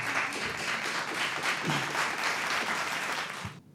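An audience applauds steadily at a live poetry recitation, a dense, even wash of many hands clapping at moderate distance that stops abruptly at the end.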